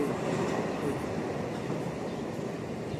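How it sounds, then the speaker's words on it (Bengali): A train runs past along a railway line close by, a steady unbroken rumble filling the whole stretch with no pause or fade. "এই ট্রেনটাই যাচ্ছে"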